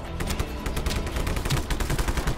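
Gunfire in Just Cause 3, with a rapid burst of shots rattling out in quick succession, fairly loud, with no talk over it.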